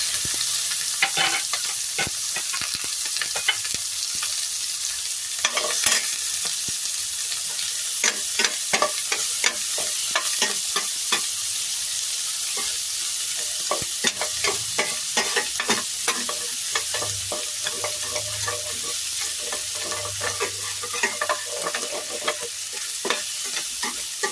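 Ginger and onion sauté in a hot pan for sauteed mung beans, a constant close sizzle broken by frequent sharp clacks of a utensil stirring, with no talking.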